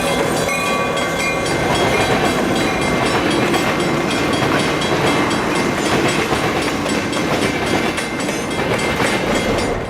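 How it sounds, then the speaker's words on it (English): Southern Pacific freight led by an SDP-45 and a GP9 locomotive passing Stockton Tower and crossing the Santa Fe line, a steady loud rumble of engines and rolling wagons with rhythmic clickety-clack of wheels on rail joints throughout. "An SDP-45 and GP9 lead an SP freight past Stockton Tower as they cross the Santa Fe heading"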